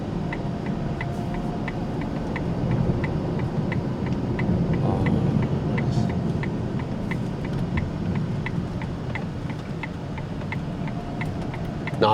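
A four-door Ferrari V12 car cruising in normal driving mode, heard from inside as a steady low engine and road rumble with faint ticking, continuous and even throughout with no talking.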